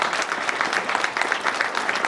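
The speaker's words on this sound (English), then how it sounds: "Let's give them a round of applause," Audience applause at a ribbon cutting for a council on aging, a steady wash of many hands clapping together, fairly loud and continuous throughout, with no talking over it.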